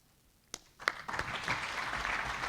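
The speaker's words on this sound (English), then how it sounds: "Let's give them a really, really big round of applause." Audience applause at an investing event, beginning with a few scattered claps that quickly swell into steady, full clapping from a crowd.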